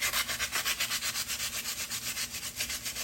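A garage door torsion tube sanded down by hand to clear burrs, a rhythmic back-and-forth rasp of abrasive on metal, about six strokes per second, close and steady.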